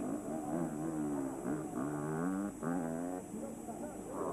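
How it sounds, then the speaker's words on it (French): Motocross motorcycles racing on the Bellpuig circuit, an MX2 race, with engines revving up and down in sustained rising and falling tones beneath continuous commentary. "Et Davide Guarneri toujours maître de ses gestes de sa moto, qui n'hésite d'ailleurs même pas à sauter les camels de ce circuit de Belle-Pouch."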